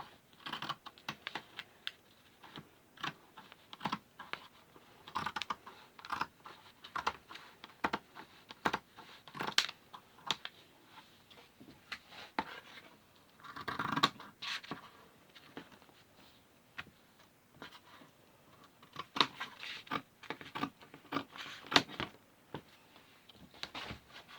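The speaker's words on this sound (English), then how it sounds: "If you want to cut it with your scissors, which this is what I usually do." Crisp, repeated snipping and crunching as scissors cut through fabric for infant burp cloths in short irregular bursts, close and fairly quiet, with no talking.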